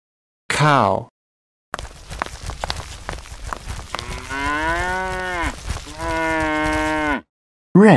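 A cow lets out several loud, drawn-out moos close by, with a brief shuffle of hooves between calls and no talk.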